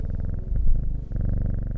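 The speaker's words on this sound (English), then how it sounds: "Let's pat the cat." A cat in the video game Strange Horticulture purrs when petted, a close, steady rumbling purr with rhythmic pulses heard alone for a couple of seconds.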